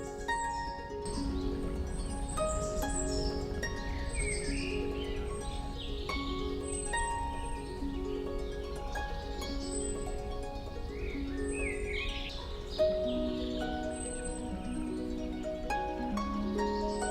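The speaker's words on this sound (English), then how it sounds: "This is a nuthatch and two hungry fledglings." A nuthatch and two hungry fledglings call in a forest, with repeated high chirps and begging calls in quick overlapping bursts, moderately close against a faint background with soft musical tones underneath.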